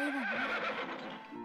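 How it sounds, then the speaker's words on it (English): A horse whinnies in London Detective Mysteria, a single loud, close neigh that fills the short moment and trails off, with no voices over it. "There's horse noise."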